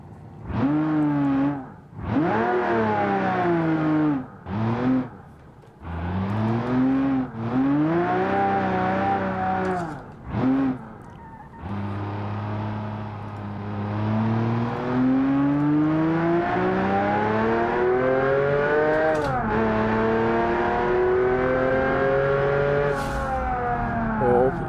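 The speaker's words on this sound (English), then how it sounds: "Another V12 sounding engine." A V12 engine in the ACZ Stout sedan from the driving game Automation revs hard through repeated gear changes, pitch climbing and dropping in short bursts, then a long sustained climb under acceleration.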